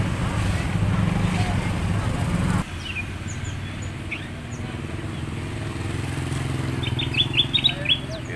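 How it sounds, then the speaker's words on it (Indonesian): Caged songbirds chirp in short high bursts at a busy morning bird market in Indonesia, with crowd murmur and passing motorbike engines underneath. "Kita mampir di pasar burung."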